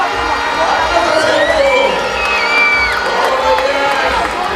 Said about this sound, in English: Getting a nice round of applause for LaShawn Welch as he finishes strongly and gets across the line